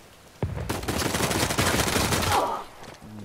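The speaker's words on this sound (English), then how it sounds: "blind fire on this game" Blind-fire gunshots from Uncharted 4 multiplayer burst in as a loud, dense fusillade of rapid shots that starts abruptly, holds for about two seconds, then tapers off.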